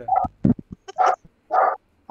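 A small dog barks a few times nearby, sharp yaps in quick short bursts with brief pauses between, loud and close with nothing else around.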